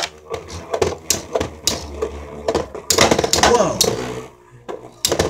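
Galaxy Pegasus W105 R2F and Sol Blaze V145 AS beyblades collide in a plastic stadium, giving repeated sharp clacking hits in quick irregular bursts, with a brief exclamation from a nearby voice.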